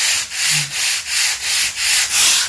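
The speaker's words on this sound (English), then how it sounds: "So we're just sanding off these rough edges." Sandpaper rubs by hand over the rough edges of wood paneling in quick, even back-and-forth strokes, about five per second, a close, loud, steady scratching with no voices.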